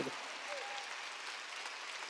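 A church congregation applauds during a sermon, a steady, evenly sustained wash of many hands clapping together that sounds soft and somewhat distant.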